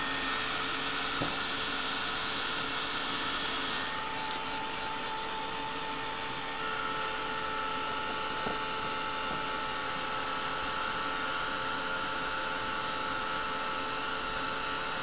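A hair dryer blows steadily on an altered light bulb craft project, a continuous close whooshing hum with a faint tonal whine that holds through the whole stretch, with no talk over it.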